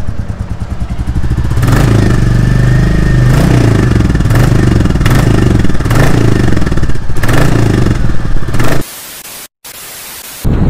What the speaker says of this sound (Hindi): तो अभी सुनेंगे इसका थंप कैसे लग रहा है आपको